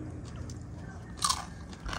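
Crispy pata, deep-fried pork leg cooked outdoors, is bitten with a single sharp crunch followed by softer chewing, close-up and brief.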